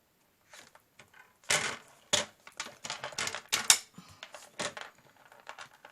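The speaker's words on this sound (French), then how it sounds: "je vais faire des plis tous les centimètres" Sheets of scrapbook paper are folded and creased at regular intervals, a series of sharp crisp crackles and rustles in close, quiet bursts separated by short pauses.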